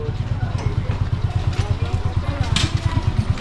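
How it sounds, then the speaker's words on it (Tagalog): A brand-new motorcycle engine idles close by with a steady, rapid low thumping pulse, its even rhythm running throughout while faint background noise sits on top. "Bagong motor."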